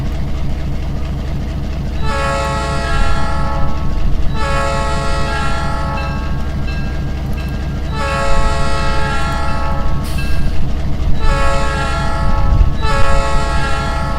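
Nathan K12 train horn from the Trainz rail simulator sounds in four long, loud chime blasts separated by short gaps, over a steady rumbling locomotive bed, with no talking.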